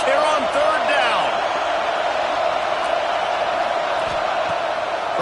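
Auburn football crowd at a stadium on third down, a steady roaring wash of noise with rising cheers and whoops, a commentator talking over it.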